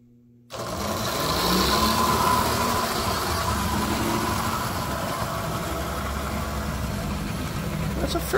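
Unique Art #2000 Rock Island prewar toy train locomotive starting up and running, a sudden onset into a steady close mechanical whir and buzz that holds evenly throughout.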